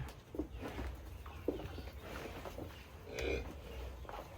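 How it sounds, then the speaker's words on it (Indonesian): Cattle low softly and intermittently at a livestock pen where large cows are being sought, several faint, distant moos rising over quiet outdoor ambience. "Sapi kembar."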